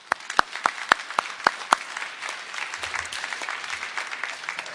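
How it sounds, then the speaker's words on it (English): An audience in a lecture hall breaks into applause, starting with a few sharp separate claps and swelling into sustained, moderately distant clapping that continues to the end. "I'd also like to give them a round of applause,"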